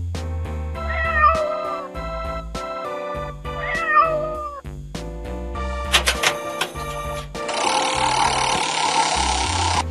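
A cat meows twice, about three seconds apart, each call short and clear over a bouncy children's music track, with no speech.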